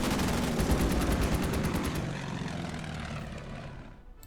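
Rapid gunfire from an attack in the Order of Battle strategy game plays over a droning aircraft propeller engine, steady bursts for about two seconds before the noise thins and fades.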